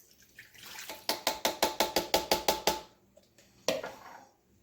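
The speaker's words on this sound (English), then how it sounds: "pour that in. I had 4 cups of water here." Four cups of water are poured over pork in a pan for oven pulled pork, making a quick run of about a dozen rhythmic glugging splashes, then a brief pause and a final splash, close and with no voices.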